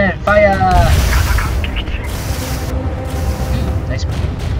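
A destroyer fires its naval guns in the naval combat game Navy Field 2, giving a heavy boom followed by a rumbling tail over ongoing game ambience, with someone speaking over it.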